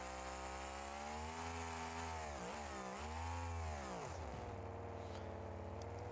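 A Pro Mod drag racing engine fitted in a monster truck in BeamNG.Drive revs hard, its loud, steady high-pitched drone dipping and rising a couple of times before settling into a rough idle.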